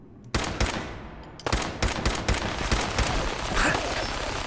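Rapid, ragged gunfire rakes a Deathclaw in Fallout 4, with dense bursts of close, loud shots. A brief gap separates an opening volley from a sustained second barrage, and game noise rumbles beneath.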